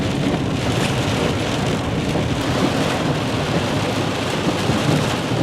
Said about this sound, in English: it's storming outside